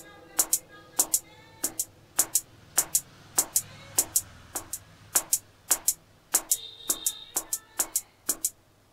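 A Yamaha DTX M12 electronic drum pad is struck repeatedly with a delay effect, each sharp hit followed by an echo, and the gap between hit and echo widens steadily over about twenty evenly spaced strikes.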